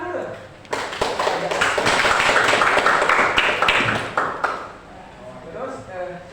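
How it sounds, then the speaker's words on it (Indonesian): Students clap together in a school classroom during an Islamic religious education lesson, a burst of mixed claps and taps lasting several seconds and then trailing off, with voices heard around it. "Masih tepuk tangan dulu."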